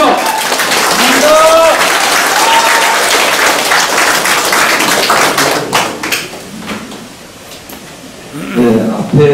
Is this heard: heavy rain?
no